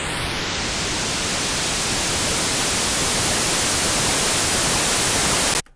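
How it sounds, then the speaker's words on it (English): Non-tonal white noise riser with pitch automation: a steady, loud wash of hiss whose brightness sweeps upward over several seconds, then cuts off abruptly. "This is a non-tonal riser at the moment. There's no tone in it. It's just noise,"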